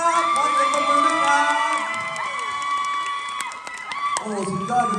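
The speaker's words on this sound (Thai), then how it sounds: "ขอเสียงปรบมือด้วย" A crowd at a live Thai music show cheers and whoops loudly and continuously, with shouting voices mixed over steady ambient music or tones throughout.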